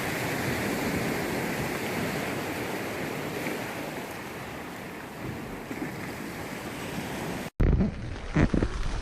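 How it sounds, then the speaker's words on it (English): Incoming tide waves roll and surge onto a beach in a continuous roar, loud and close, before the sound cuts abruptly and a rougher, gustier surf takes over. "The sea's just starting to come back in now. Probably hear it."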